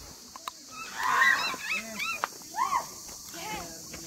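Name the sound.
people imitating monkey calls at Raigad fort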